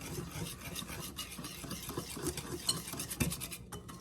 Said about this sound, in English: We're just gonna whisk this until it's nice and smooth.